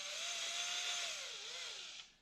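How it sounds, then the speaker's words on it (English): A power drill boring through a homemade wooden fishing lure whines in one steady high tone that slowly dips in pitch, then cuts off at the end, close and alone. "you could just take a drill bit and drill through the lure"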